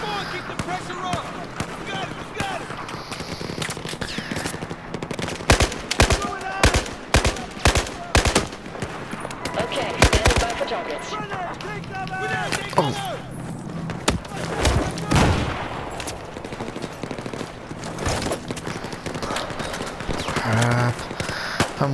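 Machine gun fire in the video game Battlefield 4, sharp repeated bursts of rapid shots crackling loudly through the middle of the clip among scattered thuds, with a player talking over the action.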